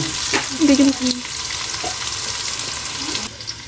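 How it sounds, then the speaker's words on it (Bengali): Whole spices (bay leaf, cardamom, cinnamon and cloves) frying with chopped onion for a chicken curry, stirred with a spoon, giving a steady hiss of hot oil with a few scraping and clinking stirs up close. "দিয়ে একটু চামচ দিয়ে নাড়াচাড়া করে দিলাম"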